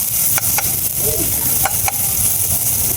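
Onion and garlic sautéing in a pan at a campsite, a steady loud sizzle with occasional spatula scrapes and stirring knocks.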